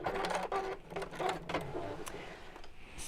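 A sewing machine stitches fabric for a quilted drawstring bag in short, uneven bursts with pauses, close and moderately loud.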